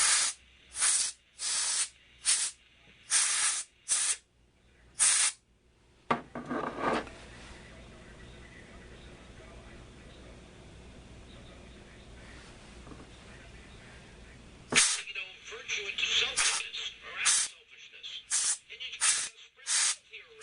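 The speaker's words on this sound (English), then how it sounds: "as I'm cleaning out the capacitor, I used a small brush and a can of air" A can of compressed air blasts into the capacitor of a Zenith 500D radio in a rapid series of short, loud hissing bursts. A long quieter stretch of low hum follows, then another cluster of sharp spurts.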